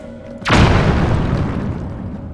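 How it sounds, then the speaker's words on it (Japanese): A bomb blast in The Legend of Zelda: Tears of the Kingdom: one loud, sudden boom close by, trailing off into a deep rumbling decay over a couple of seconds. "結構爆弾使うよ。"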